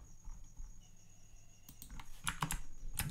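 Keys clatter on a computer keyboard during a coding session, starting quiet, then rising into quick close bursts of clicks, with no talk over them.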